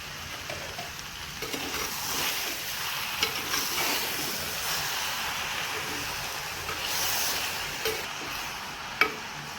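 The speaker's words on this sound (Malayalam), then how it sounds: "ഇനി നമ്മളിതിലേക്ക് നേരത്തെ കഴുകി വാഴി ഊറ്റിയൊക്കെ വെച്ചിരുന്ന ലിവറും കൂടി ഇതിലേക്ക് ഇട്ട് കൊടുക്കാം." Goat liver tossed into a hot frying pan and stirred, giving a steady soft sizzle with scraping and stirring noises and occasional small clinks throughout, no talking.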